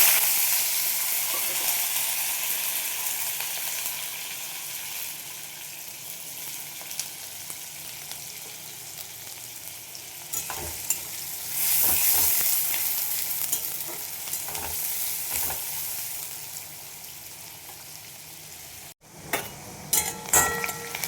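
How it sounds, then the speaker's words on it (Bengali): Chopped onions frying in mustard oil with cumin seeds, a steady broad sizzle that swells at times with stirring, close by and without talk, cut by a brief break near the end. "সর্ষের তেল দিয়েছি, দিয়ে দিলাম জিরে ফোড়ন, আর দিয়ে দেবো দুটো পেঁয়াজ ছোট ছোট করে কেটে নিয়েছি।"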